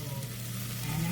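Chopped peppers, onions and celery sizzling in a hot pan for a chicken pot pie filling, a close, steady crackling fry with a low background hum and no talking.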